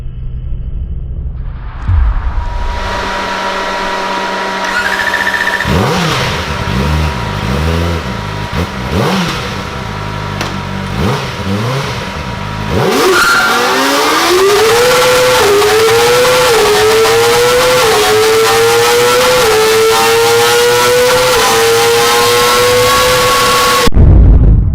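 A Kawasaki ZX-4RR four-cylinder motorcycle engine idles, then blips up and down in repeated rising and falling revs before climbing through the gears in a long, loud, high-pitched wail that cuts off abruptly; close and very loud, with no talk.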